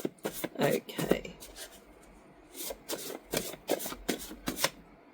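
Oracle cards from the Art of Self-Healing deck being shuffled by hand, a series of close, crisp riffling bursts with brief pauses between them, under soft talk.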